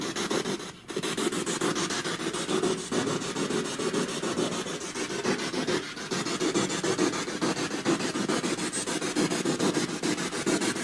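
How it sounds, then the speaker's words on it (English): A handheld white noise device plays a steady hiss of static in a dark former mental asylum in England. It is loud and constant for the whole stretch, with a brief dip near the start and no talking. "Use this white noise I've got in my hand."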